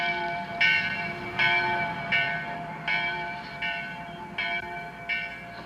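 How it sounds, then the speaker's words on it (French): A church bell in the Heidi cartoon rings repeatedly in a slow, even rhythm, each strike ringing out with a bright, lingering tone. "C'est la cloche de l'église."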